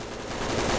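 Full-auto 7.62x51 rifle fire in the video game Ready Or Not, a brief dense loud burst of rapid shots blending into one continuous roar.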